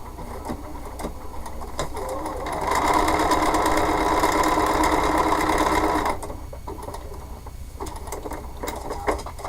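A sewing machine stitches paper-pieced pumpkin fabric in steady bursts, a constant mechanical whir that swells louder for several seconds in the middle, with quieter motor hum and small clicks before and after.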